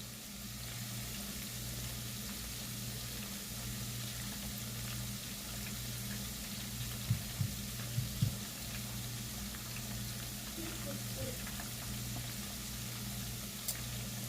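Steady low sizzling of vegetables sautéing in a frying pan, a continuous crackling hiss with a few soft clinks partway through, no talking.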